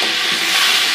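Yakhni broth hits hot fried mutton in a pan, a loud, dense, close sizzling hiss that holds unbroken through the whole short burst.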